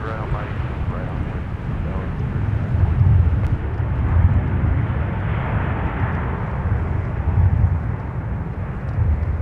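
A Southwest airliner touching down at MSP airport, a steady loud roar of jet engine and rumble that swells and holds throughout, with some talk mixed under it.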